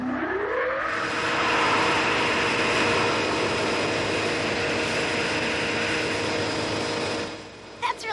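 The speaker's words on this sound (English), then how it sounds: "That's a wind tunnel, Dennis. We use it to test how a spaceship will react to wind." A wind tunnel for testing spaceships in an animated scene roars to life with a rising whine, then holds a loud, steady rush of air for several seconds before cutting off abruptly near the end.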